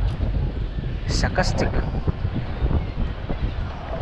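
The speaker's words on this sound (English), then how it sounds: "Really is windy, guys" Strong wind buffets a bare camera microphone near a Durban beach at night, a steady loud rumbling roar throughout, with someone talking over it.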